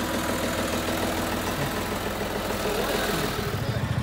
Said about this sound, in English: we're gonna have to move the tractor out of the way with a chain